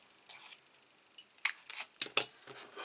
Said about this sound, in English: Snip that little bit off as well.